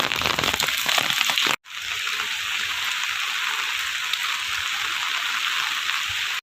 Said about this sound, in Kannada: ಜೋರು ಮಳೆ ಬಂತು ಮಾರ.